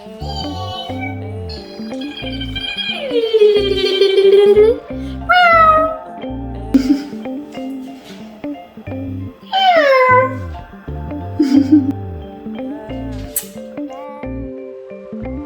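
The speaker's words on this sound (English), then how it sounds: "she's my cute cat, and she is a ragdoll" A ragdoll cat meowing up close, a series of drawn-out, rising and falling meows with short pauses between them, loud and clear.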